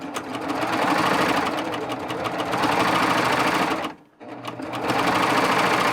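A Baby Lock serger stitches a cover hem on knit fabric, its fast steady whir running close and loud, then breaking off briefly before starting up again.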